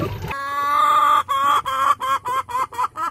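A loud, drawn-out hen call close by in a free-range laying coop, sliding into a series of rhythmic, pulsing clucks with no talking.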